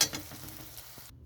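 Hilsa fish oil frying in a pan: soft, steady sizzling with a few light stirring scrapes, quiet and close, ending abruptly.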